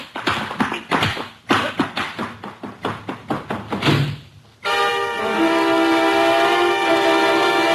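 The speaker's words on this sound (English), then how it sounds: "you know I dislike the banging of doors" A door being banged, a run of rapid sharp knocks and thuds in an uneven rhythm, loud and close, followed by a steady sustained tone after the banging stops.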